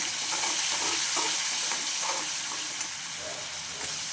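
Curry leaves crackling in hot oil in a pan with spice powders, cumin and chutney for urad dal; a dense, close sizzle with scattered pops and stirring runs continuously on its own.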